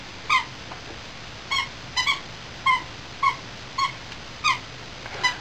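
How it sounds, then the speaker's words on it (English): Dog playing with a squeaky toy indoors, about eight sharp high squeaks spaced irregularly at roughly half-second to one-second intervals, fairly near, over a quiet room background. "That's the dog playing with their toy right now."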